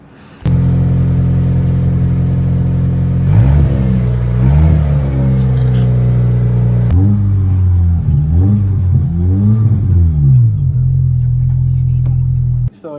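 The engine of a 1997 Fiat Cinquecento SX with a new exhaust idles loud and close, then revs up and down several times in rising and falling sweeps before dropping back to idle and cutting off.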